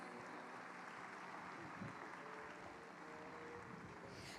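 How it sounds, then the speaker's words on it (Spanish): A church audience at a Spanish-language prophetic conference gives steady, dense applause that sounds distant and faint, continuing evenly throughout. "Por favor, un aplauso para recibirles a ellas."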